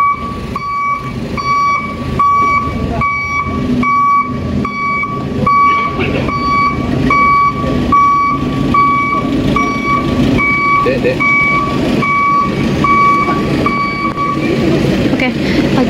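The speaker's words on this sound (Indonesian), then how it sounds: "kayak mobil ambulan mau mundur dan agak geser ke sini" Ambulance reversing with a steady, evenly spaced electronic reversing beep repeating for about fifteen seconds, engine rumble beneath, while people talk nearby outdoors.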